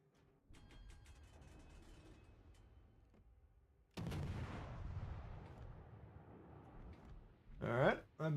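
Naval guns in a video game fire at a target: one heavy, booming salvo crashes in midway and rumbles on, followed by a sharper burst near the end, over a low continuous background hum.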